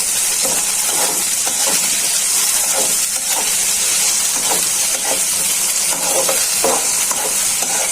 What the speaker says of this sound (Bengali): পেঁয়াজ আর চিংড়ি মাছটা একসাথে ভাজা হয়ে যায়